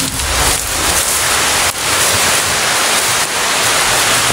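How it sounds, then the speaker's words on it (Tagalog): Steady, heavy rain hisses continuously, loud and close, with faint surges in the downpour. "Isang ulan mga tol."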